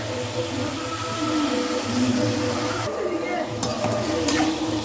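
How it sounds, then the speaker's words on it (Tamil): A sizzling pot of curry being stirred, a steady bubbling hiss with low rumbling and occasional utensil scrapes and knocks, close and fairly loud throughout. "நல்லா கிண்டி விட்டுக்கலாம்."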